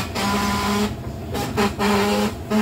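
A Bajaj motorcycle horn under repair, sounded in several short and longer honks with gaps between, its tone buzzy and harsh rather than clean, heard up close.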